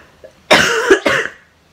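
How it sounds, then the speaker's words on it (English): A woman with a cold coughs twice, loud and close, two harsh bursts in quick succession followed by quiet. "I'm going to cough in a second."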